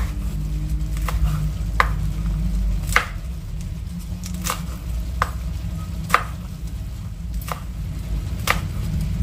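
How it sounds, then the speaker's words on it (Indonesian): A knife thinly slices red chilies on a cutting board with crisp, evenly spaced taps. A steady low background hum, like cooking or a fan, sits under the cuts. "Lalu cabai merahnya ini akan saya potong."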